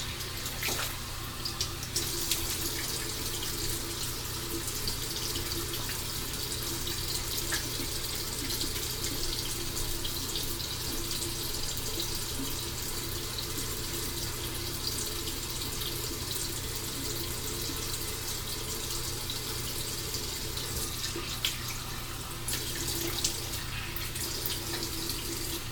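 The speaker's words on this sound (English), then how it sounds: "I love rinsing off my face after a long day." Water runs steadily from a sink tap as turmeric soap is rinsed off a face, a continuous close splashing hiss with no pauses.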